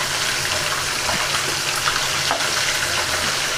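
Fish frying in hot oil in a pan, a constant dense sizzle and crackle that stays loud and even throughout with no talking.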